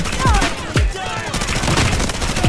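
Rapid bursts of MP5 submachine gun hipfire in the shooter game Delta Force, close and loud, with sharp repeated shots and heavy low thumps over a busy battle background.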